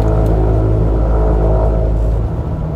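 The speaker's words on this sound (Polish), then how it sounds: "cały samochód wibruje" A Jeep Gladiator pickup rumbling heavily while driving, a steady loud low drone with strong vibration throughout and no talking.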